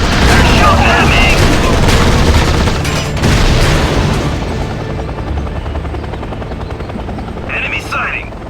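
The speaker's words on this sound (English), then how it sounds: "Base is under attack. Damn it! They're shooting at me!" Gunfire crackles through an attack on a base in the video game Act of War, loud and layered with a heavy helicopter drone and in-game voices, easing off in the second half.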